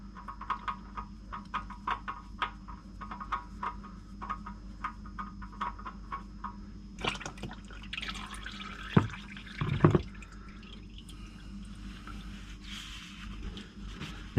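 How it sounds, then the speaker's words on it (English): Engine oil from a Mitsubishi Colt Ralliart drips steadily from the removed oil filter, a run of small, close, evenly spaced drops. A few louder clinks and splashes land partway through. "time to undo the oil filter, let the rest of it drain off"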